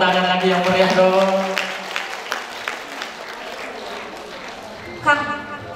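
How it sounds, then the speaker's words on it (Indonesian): An audience claps for a speaker at a talk event, applause rising under a host's voice and then thinning to scattered claps before a brief burst of voices near the end. "Berikan tepuk tangan lagi yang meriah dong"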